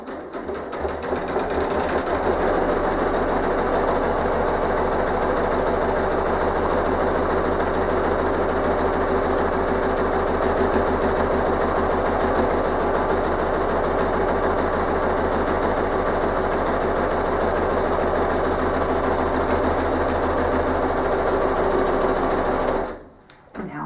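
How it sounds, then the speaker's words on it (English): A sewing machine stitches through a snowflake postcard in one long, loud, continuous mechanical whir, steady and close, with a brief quiet start before the motor settles and a sudden stop at the end. "I'm careful while I'm stitching that my stitch on the right side, on the inside of my sewing machine"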